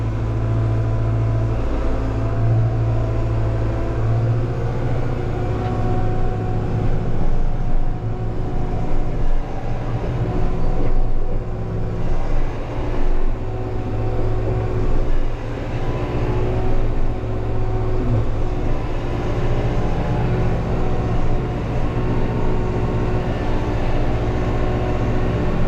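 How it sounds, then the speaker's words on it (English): A tractor in four-wheel drive at medium speed pulling a lowered land plane over wet ground beside a new pond: a continuous heavy diesel rumble and mechanical drone that runs steadily for the whole stretch, close and loud. "I'll drop the land plane down some."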